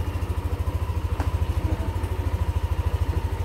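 A Yamaha Aerox Connected scooter engine idles steadily after being jump-started from a car battery, its rapid even pulsing close and continuous, with one sharp click partway through.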